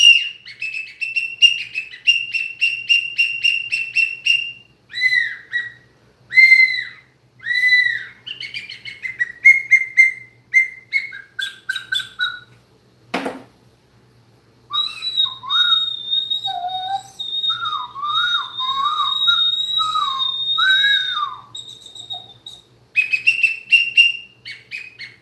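Close, loud shrill whistle blasts in varied patterns: rapid chirping trills, warbling slides and a long sustained tone, broken by short pauses and one sharp knock.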